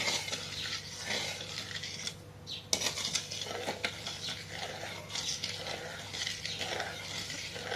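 Sugar syrup being stirred in a pan over low heat for peanut chikki, with steady spoon scraping and light metal clinks against the pan, close and continuous for the whole stretch.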